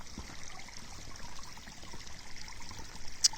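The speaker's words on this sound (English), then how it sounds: "the water's just constantly draining out right here" Soft, steady trickle of water draining out of a backyard wall close by in a small Japanese mountain area, with a faint continuous wash and no voices.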